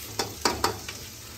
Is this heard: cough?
no